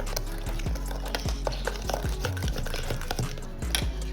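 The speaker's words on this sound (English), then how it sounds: "I'm going to mix it." A fork stirring vanilla cake batter in a bowl: steady, fast scraping and clicking strokes close up. No one speaks.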